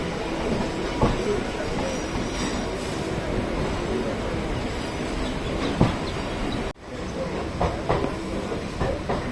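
Barrackpore–Sealdah galloping local EMU train running, a continuous loud rumble of wheels on track with clicks and occasional squeals, heard close up from on board with no talk.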